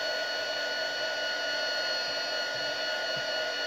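A handheld hair dryer blows on a homemade Christmas cracker, giving a steady, loud, unbroken whirring hum with a high whine for the whole stretch and no voices.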